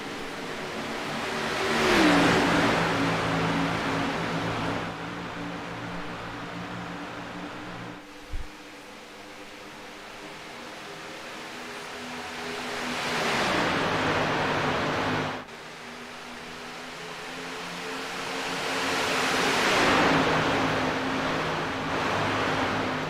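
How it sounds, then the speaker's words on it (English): Race cars roar past one after another as they accelerate back to racing speed after a pace car period, each engine swelling loud and falling away in long sweeping passes against a steady background rumble. "Pace car pulls off. Here we go, back to racing."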